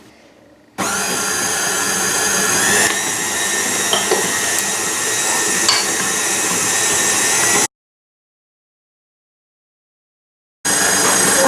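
A KitchenAid stand mixer kneads brioche dough with a steady, loud motor whir that runs for several seconds, stops into silence, then starts again at the end.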